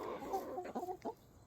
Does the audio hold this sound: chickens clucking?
yes